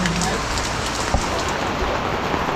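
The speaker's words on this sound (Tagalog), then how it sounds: "Lakas ng ulan, oh." Heavy rain pours down steadily outdoors in the Philippines, a dense, continuous hiss of drops drumming on surfaces with a few louder nearby splats, loud and close throughout with no talking.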